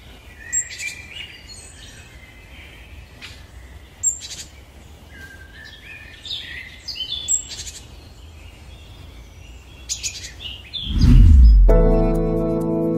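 Several birds chirp and call back and forth in short bursts among leafy green trees on a hiking trail up Bukit Trunyan, Kintamani, Bali, over quiet outdoor ambience, ending with a sudden loud, harsh noise.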